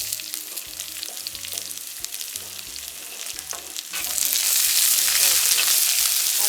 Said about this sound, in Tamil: நாங்கள் மெல்லிய நெருப்பில் வதக்கிட்டு இருக்கிறோம்